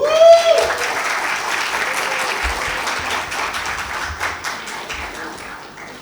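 Loud, steady applause from a festival audience at the ZAB Media Festival as speaker Sara Moquim is welcomed on stage, many hands clapping together for several seconds and slowly fading toward the end.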